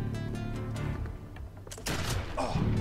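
Bursts of gunfire from a firefight in Expeditions: Conquistador, several loud cracks scattered across the moment with a heavier volley near the end, no talking.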